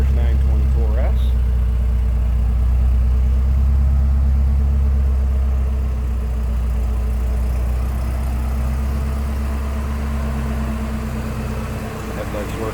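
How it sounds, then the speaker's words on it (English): A 1987 Porsche 924S engine idles steadily and up close, a low continuous rumble with a brief rise near the start and a slight dip toward the end, with no talk over it. "Sounds just like you'd expect out of a Porsche 924S."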